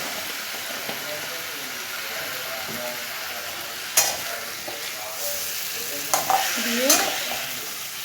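Spices and ginger water sizzle in a frying pan for niramish aloor dum while a utensil stirs and scrapes with sharp clicks and rattles near the end; a voice speaks briefly.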